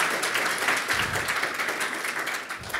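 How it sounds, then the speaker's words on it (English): A conference audience claps after a presentation on the economic cost of dementia, a dense, even patter of applause at moderate level that fades slightly toward the end. "Can we have another round of applause for a really excellent presentation and the questions?"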